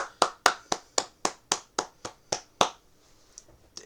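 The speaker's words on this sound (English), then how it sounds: "Can we get another round of applause?" A single person claps about ten times in a steady, even rhythm, each clap crisp and close, then the claps stop and a few faint taps trail off.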